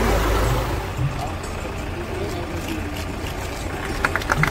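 A van's engine idles at a flag-off ceremony for seedling and rescue vans, a low steady rumble that carries under nearby speech and ends in a few sharp clicks and knocks.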